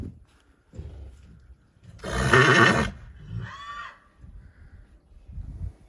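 A stallion neighs loudly in one shrill burst, then a shorter whinny follows, with faint low shuffling sounds before and after, near a mare and foal.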